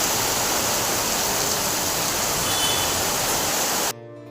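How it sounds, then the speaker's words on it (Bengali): Heavy rain pours down in a steady, loud, dense hiss that fills the scene without a break, then cuts off abruptly near the end. "দেখতেই পাচ্ছ তোমরা কত জোরে বৃষ্টি পড়ছে"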